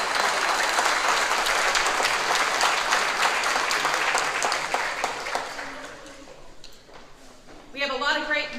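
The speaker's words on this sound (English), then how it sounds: "Please give them a round of applause." Dense, sustained audience applause fills a company celebration at a Tulsa truck terminal honoring million-mile drivers, Blue Knights and trainers, fading after about six seconds as a voice begins speaking over the thinning claps.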